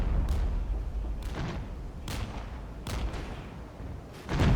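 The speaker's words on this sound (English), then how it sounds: "we have enemy artillery in this section" Enemy artillery pounds the field in the real-time strategy game Regiments, with about five heavy booming blasts landing at irregular intervals over a rumbling battle backdrop, the last one loud and close.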